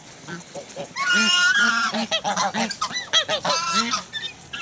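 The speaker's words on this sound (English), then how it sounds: "So we got some Venezuelan Chinese geese and one cross." Chinese geese and one cross honk repeatedly in a loud, busy chorus, overlapping nasal calls close by in Venezuela, with a voice briefly mixed in.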